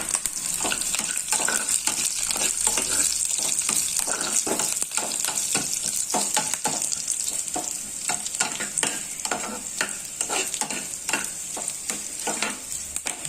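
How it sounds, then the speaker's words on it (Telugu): Tempering of dried red chillies frying in hot oil: a continuous bright sizzle broken by repeated scraping stirs of a spoon in the pan, close and steady with no talking. "తాలింపు బాగా వేగుతుంది."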